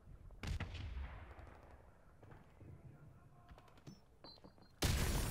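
A grenade blast in Modern Warfare Remastered, with a sharp burst and rumbling tail at the start, scattered gunfire and small clicks in the middle, then another loud burst at the end, all fairly distant with faint voices.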